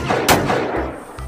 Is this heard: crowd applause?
no